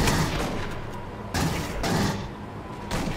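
Gunfire in the PS3 game Aliens: Colonial Marines makes a dense, continuous roar of shots with a few harder bursts standing out, loud and close, with no talking.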